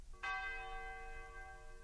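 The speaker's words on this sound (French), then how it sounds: "avertis par la cloche de l'Église" A single church bell is struck once and rings out with a bright metallic clang, then a long, slowly fading hum of overtones in a quiet, distant setting.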